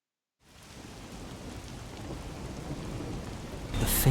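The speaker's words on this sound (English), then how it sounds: "melts against the sound of rain." Steady rain from the video game Rain Code, a dense wash of falling water that rises gradually in loudness, with rumbling low texture suggesting distant thunder and a brighter burst near the end.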